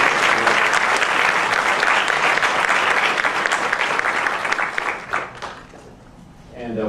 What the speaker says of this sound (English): Oh, you can applaud as much as you want.